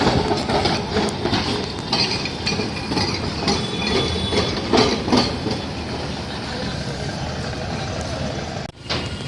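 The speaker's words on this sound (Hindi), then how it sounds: "ये देखो दिस इज ट्राम है, ये 2 डब्बे वाला." A two-car tram rolls along a busy Kolkata street, its wheels clicking and clanking over rail joints amid a constant rumble and traffic noise for several seconds.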